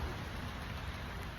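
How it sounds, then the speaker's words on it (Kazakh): Rain falls outside as a soft, even, continuous hiss, faint and distant, with no individual drops or voices standing out. "Жәл жаңбыр жауып тұр."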